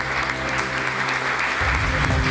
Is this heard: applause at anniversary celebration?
yes